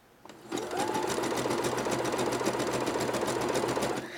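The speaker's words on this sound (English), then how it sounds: "when you're sewing the elastic on here like this" A sewing machine zigzag-stitches elastic onto leotard fabric, starting after a brief pause and running at a fast, steady whirring rhythm close by, then slowing at the very end, with no talking over it.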